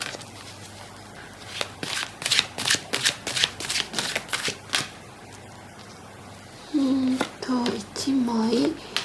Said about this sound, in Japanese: あの人の気持ちでこのカードも何枚出そうかな。 ちょっと出しますね